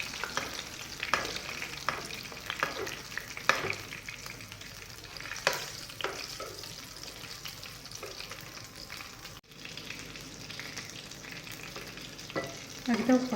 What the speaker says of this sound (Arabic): غادي ترميه في الزيت بعد ما ترميه باش يتنبل لك من الفوق، وكي يحمر من تحت قلبيه